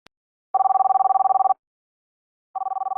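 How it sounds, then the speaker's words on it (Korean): A telephone rings with a steady, buzzing electronic tone in two bursts, one lasting about a second and a second starting near the end, separated by silence, loud and close with no voices. "민유성이 기절할 것 같은 정신을 가다듬고 겨우 전화를 받는다."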